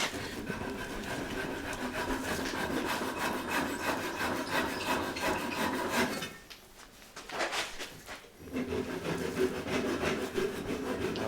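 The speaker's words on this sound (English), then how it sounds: "then we'll begin the rasping process" A hand rasp works steadily across a blackthorn-style wooden knob stick, shaping a shillelagh with continuous close, gritty strokes. The strokes break off briefly partway through and then resume with the same rough rhythm.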